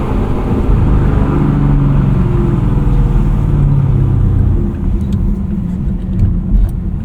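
A modified, cammed 2022 Chevrolet Camaro SS 1LE V8 rumbles loudly and close with a deep, sustained engine roar. Near the end it eases off, and a few short rev blips follow.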